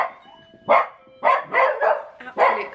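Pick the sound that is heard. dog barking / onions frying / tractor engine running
dog barking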